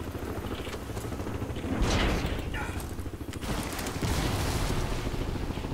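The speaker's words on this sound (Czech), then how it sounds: "Někdo po nás střílí." Gunfire in the video game Crysis 3 comes as a few sharp bursts over a rumbling game soundscape, with a voice talking over it.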